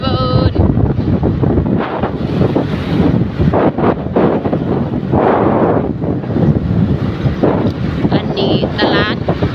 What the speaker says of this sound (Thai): ลมพัดเวิน